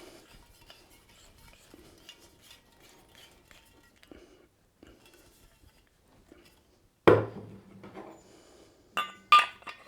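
A Bernzomatic propane pencil torch and a Cigweld BlueJet JET411 being screwed onto their original gas bottles: faint metallic ticking and scraping, then a couple of sharp, close clinks near the end, with no talking.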